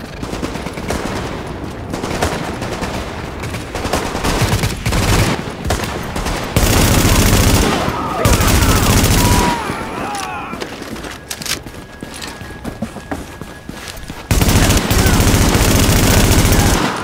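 Automatic and rifle fire rattles in dense bursts during a firefight in Tom Clancy's The Division, loud and close, with pauses and heavier volleys between them, while voices sound intermittently.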